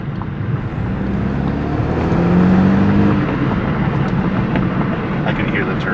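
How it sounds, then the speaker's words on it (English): BMW 328i F30 with a turbocharged engine and catless downpipe, a steady loud engine drone from inside the moving car, rising slightly midway, with a faint whistle and voices partly mixed in. "I can hear the turbo."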